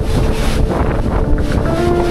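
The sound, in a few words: strong wind hitting tent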